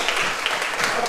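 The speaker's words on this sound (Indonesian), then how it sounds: "Tepuk tangan untuk kita semua." A brief burst of classroom applause from schoolchildren at the end of a lesson, dense, close and lively, without talk over it.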